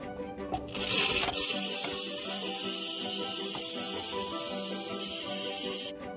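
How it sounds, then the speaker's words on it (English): An Instant Pot's pressure valve vents steam in a loud, continuous hiss that starts abruptly, holds steady for several seconds, then cuts off, heard up close with no talking. "Once your Instapot has stopped releasing its steam and stopped making any hissing noise"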